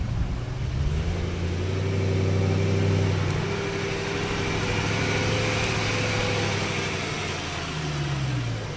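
A BMW car engine runs at low RPM with a steady, throaty drone that swells slightly and settles, heard close for several seconds with no talking.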